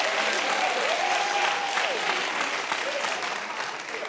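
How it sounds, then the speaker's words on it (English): A studio audience claps in steady, full applause that gradually tapers, with a voice briefly rising over the clapping partway through. "What is the clapping for?"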